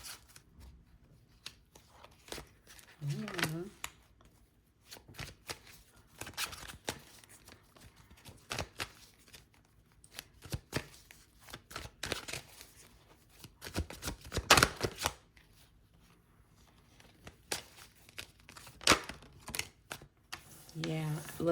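Tarot cards shuffled by hand at close range in a quiet room, a long run of soft riffling and slapping bursts at irregular intervals with brief pauses between them.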